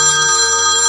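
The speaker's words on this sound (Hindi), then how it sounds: "बज गया फोन, 10 बज लिए।" A telephone rings loud and steady at close range, a sustained electronic ringtone tone with no voices over it.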